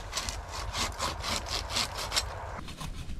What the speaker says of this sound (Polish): Ta piła jest dobra